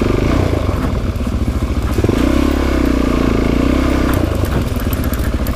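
Motorcycle engine revving on the Canaan Loop forest road near Parsons, West Virginia, loud and close, with rising and falling throttle bursts, a sustained swell midway and clattery mechanical noise, no talk.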